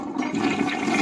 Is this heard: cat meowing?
no